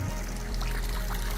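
Water trickles gently over real quarried granite stone in an outdoor water feature, a steady soft splashing wash with no voices, continuous throughout.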